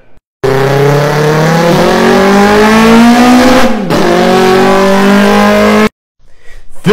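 A human voice imitates a car by mouth, shifting from a Subaru into a Lamborghini mid-drive: a loud, continuous revving drone that rises in pitch with a short gulp-like dip partway through, then cuts off abruptly into silence.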